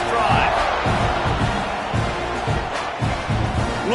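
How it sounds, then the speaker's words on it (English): A stadium crowd cheering at a football game, a dense, steady roar that fills the space with rhythmic swells, while a commentator talks over it. "this crowd is feeling themselves after that last drive"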